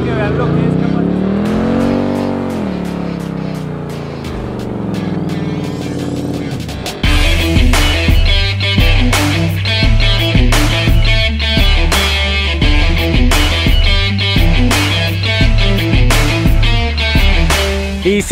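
A Ford Mustang Mach 1 engine revving up and down while idling, then a loud launch with hard acceleration through several gear changes, close and powerful with a deep rumble.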